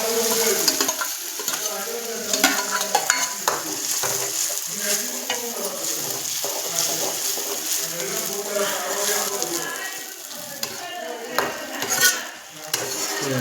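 Onion and tomato fry in a clay pot with a busy sizzle while a utensil scrapes and stirs repeatedly, close by, with people talking now and then.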